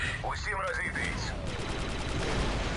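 Rapid gunfire and blaster shots crackle in the Star Wars Republic Commando video game, a continuous dense barrage mixed with voices and game effects.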